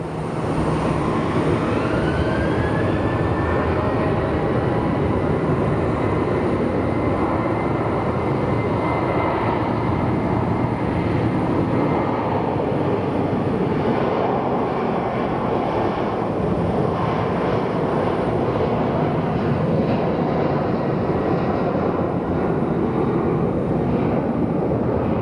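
A United airliner bound for Chicago takes off at Phoenix Sky Harbor Airport, with a loud continuous jet engine roar and rising whine that hold steady through the whole stretch with no talk.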